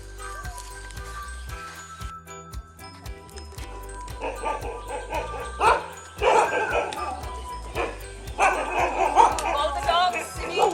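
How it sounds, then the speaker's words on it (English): Several dogs bark and yip excitedly outdoors, in overlapping bursts that grow louder and more frantic, with a person talking among them. "All the dogs, Simi, go home."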